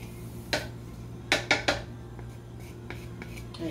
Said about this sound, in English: Pretty much just mince the garlic really well.